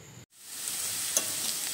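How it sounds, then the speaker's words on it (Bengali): Food frying in a hot karai that previously held fried eggs, with oil heated first: a steady close sizzle after a brief silent gap, with a faint stir clink midway. "আমি এগুলো ভেজে নেব। কড়াই বসিয়ে দিয়েছি।"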